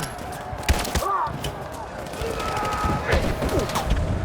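Gunfire in the video game Detroit: Become Human: rapid bursts of shots crackle over a steady noisy background through the clip, with faint voices mixed in.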